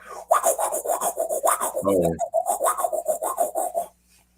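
An electric guitar intro played through a Phase 90 phaser, a harsh rasping, rhythmic scraping pulse that repeats steadily, with a brief deeper tonal swell near the middle, loud and alone.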